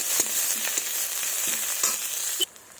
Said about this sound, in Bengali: এবার নেড়ে পেঁয়াজগুলোকে ভেজে নেব